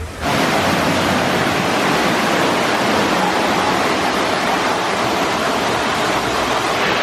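A loud, continuous rush of spraying water during a theme park water fight at Universal Orlando fills the whole stretch, a dense steady hiss with no pauses and no voices.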